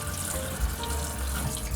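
Food being washed under a running kitchen tap, a steady close gush of water splashing into a sink with no pauses and no talking.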